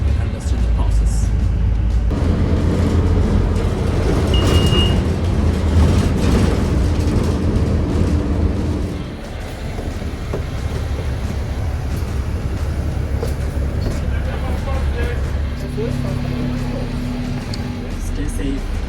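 Interior of a London bus during a ride, with a steady low engine and road rumble throughout, a brief high tone near five seconds and a slightly quieter, smoother stretch in the second half; no voices.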